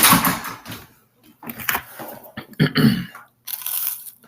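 Close, crisp crunching bites on dry, brittle toasted bread, in irregular bursts with brief pauses between.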